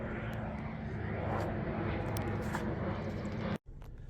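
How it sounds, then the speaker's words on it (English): An aeroplane flies overhead outdoors, giving a steady, fairly distant broadband engine drone that holds evenly throughout. "There's an aeroplane."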